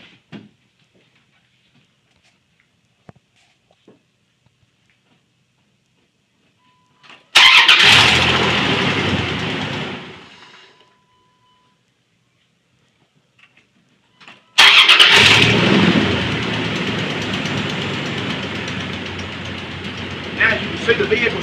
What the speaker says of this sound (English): See, the vehicle started fine